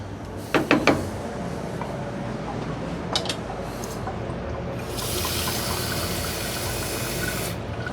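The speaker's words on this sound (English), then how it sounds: "you can add a cup or two of water to this as well" About a cup of water poured into a pot of tomato and potato stew, a hissing rush of liquid in the second half after a few clinks of a spoon or pot, heard close.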